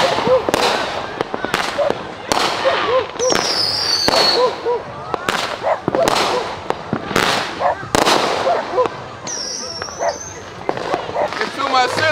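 July 4th fireworks and firecrackers bang repeatedly, sharp, loud blasts at irregular intervals with a couple of whistling rockets, while people talk and a dog barks nearby.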